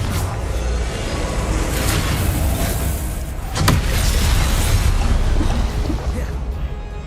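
A fiery Confringo spell explosion in a Hogwarts video game, a loud blast with a sharp crack near the middle amid a continuous roar of game effects.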